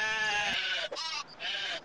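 A sheep in the video game Black & White 2 bleats in several loud, harmonic calls in quick succession, each ending in a short gap.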